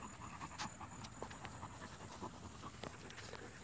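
Airedale Terrier puppies pant in quick, steady, close breaths throughout, with faint scuffling and small movement sounds and no talking.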